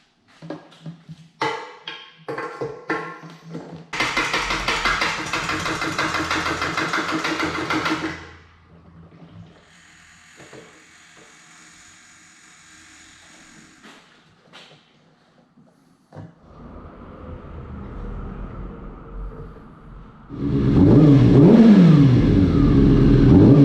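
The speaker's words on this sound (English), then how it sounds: "that does sound a lot better now that we have new gas in the bike" A Kawasaki Ninja 636 sport bike, rebuilt after a wreck and running on fresh gasoline, revs hard in loud close bursts. Between the bursts its engine settles into a rough, uneven idle.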